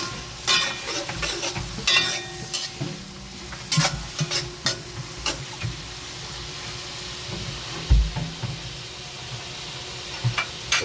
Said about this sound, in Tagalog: igigisa natin ang sibuyas, bawang, kamatis, at saka